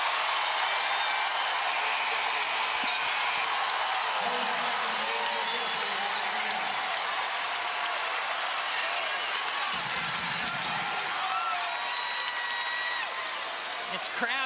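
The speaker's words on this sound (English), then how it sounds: "This crowd trying to give some juice to the Hoosiers" Arena crowd cheering and clapping for the Indiana Hoosiers during a women's NCAA tournament basketball game against Miami. It is a dense, sustained roar with applause throughout, and a commentator speaks over it.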